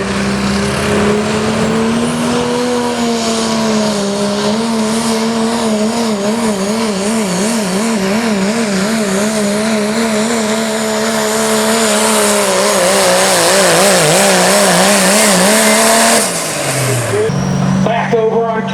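A diesel 4x4 pickup at an OSTPA Limited Pro Diesel truck pull in Oak Harbor, Ohio, roars loudly and steadily, its engine note wavering and climbing over the run before cutting off sharply near the end, with a voice talking faintly over it.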